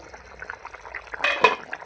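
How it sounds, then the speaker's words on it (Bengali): Fish curry broth boiling in a pot, soft bubbling and gurgling with a brief clink of a utensil near the end, close and quiet. "এবার ঝোলটাকে ভালো করে ফুটতে দেব"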